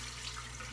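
Tap water runs steadily into a sink during shaving, a continuous close hiss with no talking.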